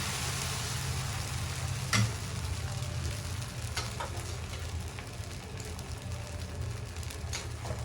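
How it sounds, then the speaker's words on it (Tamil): Samai millet adai batter frying on a hot pan, a steady close sizzle throughout with a couple of brief sharp clicks from the pan, no talking. "சாம அடை நெக்ஸ்ட் அடை ஊற்றிக்கிறோம்."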